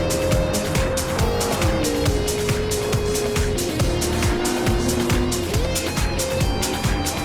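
Lexus LC 500 race car in a racing video game oversteering through a corner, engine howling steadily at high revs with shifting pitch among other cars, loud and continuous with faint tire scrub.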